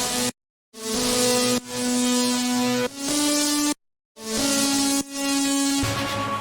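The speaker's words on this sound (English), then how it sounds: "And then I created a guitar lead." A synthesized guitar lead plays the main melody of a melodic dubstep track, a bright plucked tone stepping through sustained notes in phrases broken by two brief silent gaps.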